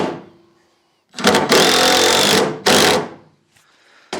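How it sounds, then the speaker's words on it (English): A power drill whirs loudly in two long bursts driving screws into wood, separated by a brief pause, then starts again briefly at the end. "I can drill right in between 2 screws going the other direction."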